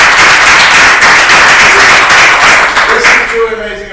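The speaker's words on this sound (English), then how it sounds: "a big round of applause to all the coordinators of Tandy Assembly" Loud applause from a crowd at the Tandy Assembly 2017 vintage computer event, dense clapping that fades toward the end as a voice starts.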